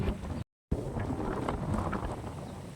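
Wind gusts steadily across an open village cotton field, buffeting the microphone with a broad, continuous rush that briefly drops out and then resumes without talk.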